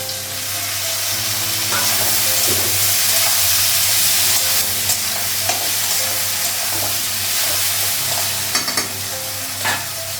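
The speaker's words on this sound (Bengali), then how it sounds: "পেঁয়াজটা আলুটা ভাজা হয়ে গেছে" Onion and potato fry together in a pan with a continuous loud sizzle, while a utensil stirs and scrapes them in occasional short strokes; no one speaks.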